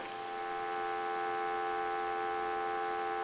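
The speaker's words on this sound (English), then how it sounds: "give you some dial tone here" A steady telephone dial tone on a Stromberg Carlson rotary wall telephone, a continuous electronic hum at even loudness that holds unbroken from start to finish.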